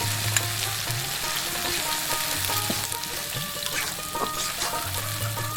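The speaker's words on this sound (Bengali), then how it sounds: "এখন এই পেঁয়াজ বাটাটা আমি দিয়ে দিতেছি, কাঁচা পেঁয়াজের গন্ধ করবো।" Onion paste sizzles and fries steadily in a hot pan while mustard hilsa is being cooked, a continuous crackling hiss with occasional stirring scrapes and no talking.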